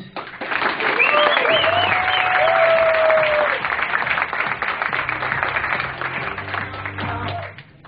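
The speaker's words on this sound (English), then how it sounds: "Both sets of parents deserve a big round of applause." Wedding guests give the parents a big round of applause, a dense, sustained wall of clapping from a roomful of people, with voices and cheers mixed in.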